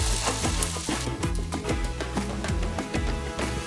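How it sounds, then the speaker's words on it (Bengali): Thin bitter gourd strips frying slowly in oil over low heat, a steady crackling sizzle with a regular clicking rhythm running throughout, fairly close and continuous. "ধিমে আঁচে এটাকে ধীরে ধীরে করে ফ্রাই করতে হবে"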